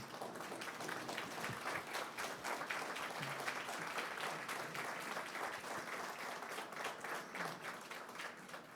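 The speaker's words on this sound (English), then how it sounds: "If you can, please stand and join me in applauding Della Bornstein." Sustained applause from an audience honoring a guest at an event, steady dense clapping throughout, moderately distant and even in level.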